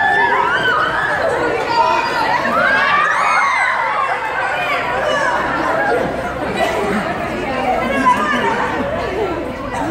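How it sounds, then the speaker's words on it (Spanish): A dense crowd of excited fans, girls among them, chatters, shouts and shrieks loudly and continuously all around, a close, packed wall of overlapping voices. "Estaban todos como locos. Estaban gritando las chicas."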